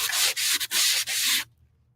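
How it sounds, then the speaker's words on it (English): Hand sanding rasps across painted wood in several short back-and-forth strokes, close and dry, then stops. "I'm just going to start sanding over the"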